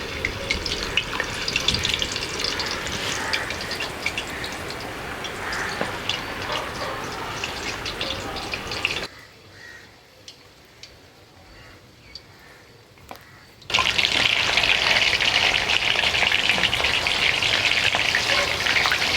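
Prawns sizzle and crackle loudly deep frying in hot oil, quieting for a few seconds before the vigorous frying resumes.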